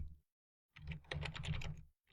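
Typing on a computer keyboard while entering a login page address, a quick run of close, crisp key clicks after a brief pause, steady and fairly quiet, with no talk.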